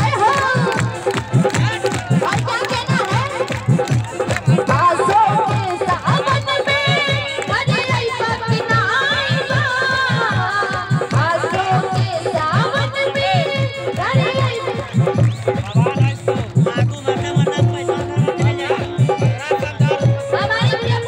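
A large crowd at a night-long Chhath Puja jagran in a village claps and cheers continuously under amplified singing and talk, the clapping dense, loud and rhythmic throughout.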